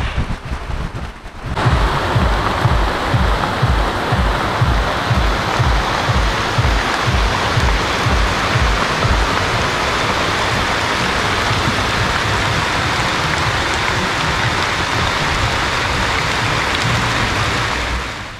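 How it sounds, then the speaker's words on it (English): Heavy rain from a rainstorm at a beach in El Nido, Philippines, pours down in a dense, continuous roar with gusty rumbling underneath, steady and loud throughout after a brief quieter start. "It is raining really hard."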